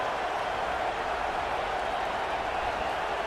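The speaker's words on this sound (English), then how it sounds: "listen to this crowd noise. This stadium is vibrating." Crowd noise fills a stadium in a college football video game. It is a dense, steady roar with no distinct cheers or peaks, and it holds at a constant level throughout.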